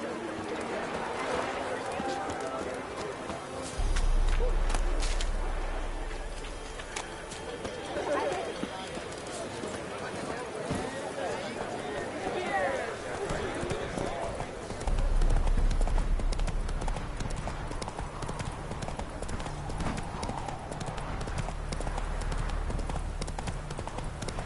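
Horse galloping in The Witcher 3 video game, a steady rapid clip-clop of hooves running throughout, under game music and bird coos, with occasional voices.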